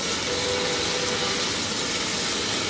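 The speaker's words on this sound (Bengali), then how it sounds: "এই রান্না করা 3 টুকরা মাংস একটু এর মধ্যে ভেজে নিব" Three pieces of cooked meat fry in a pan, giving a continuous close sizzle and hiss with no talking.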